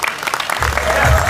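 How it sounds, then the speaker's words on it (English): Audience clapping at a business convention, a dense wash of applause that swells and grows fuller toward the end, heard without any speech. "Give you a huge round of applause."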